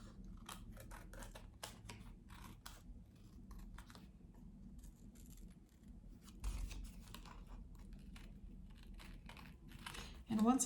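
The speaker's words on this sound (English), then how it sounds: "I'm going to take my scissors and I'm going to trim the excess away from the heart" Scissors trimming excess paper from around a heart shape made of colored strips, a quiet run of short snipping and crinkling cuts close by, with occasional soft handling noises.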